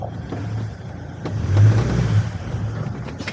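A camper van's engine idles and then rises as the van creeps forward during a roadworthiness inspection. The low rumble is close, swells in the middle and eases back, with no talking.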